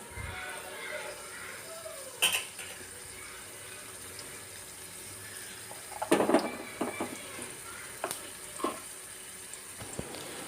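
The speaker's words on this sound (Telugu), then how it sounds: "ఆవాలు చిట్పట్లాడాక మనం చాప్ చేసి పెట్టుకున్న ఆనియన్స్ని వేసి బాగా ఫ్రై చేసుకోవాలండి" Chopped onions fry in oil with popped mustard seeds for a ridge gourd curry, a low steady sizzle broken by a few sharp clinks and spatters, with a person talking over it.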